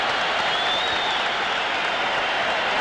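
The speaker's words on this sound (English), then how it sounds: "Tremendous ovation, and he deserves it." A large arena crowd gives a sustained, dense ovation at a Madison Square Garden boxing event, steady broadband applause and cheering filling the whole stretch without pause.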